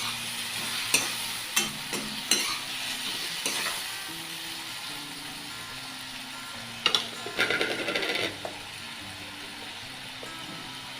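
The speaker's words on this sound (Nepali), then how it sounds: "बेसारा राखेर फेरि पनि सबैतिर मिक्स हुने गरी यसरी चलाइदिनु पर्ने हुन्छ।" Mustard greens and tomatoes with turmeric are stirred in a pan for achar: sharp scraping strokes come in short clusters over a low, steady sizzle, close by and with no talk.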